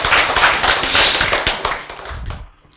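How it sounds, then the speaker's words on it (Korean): An audience bursts into applause during a Korean sermon-style lecture, a dense burst of clapping that swells and then tapers off over a few seconds. "박수!"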